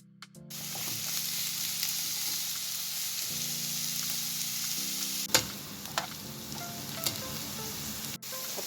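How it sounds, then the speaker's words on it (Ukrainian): Diced onion sizzles steadily in a hot pan, with occasional scraping and clicks from stirring, fairly close and continuous. "нарізаємо дрібними кубиками цибулю та теж будемо її піджарювати до золотистого кольору"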